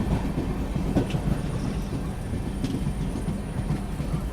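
Train at a railway station on the Murdeshwara–SMVT Bengaluru Express route, a steady low rumble of rolling coaches with faint clicking and occasional high squeal, continuous and fairly close.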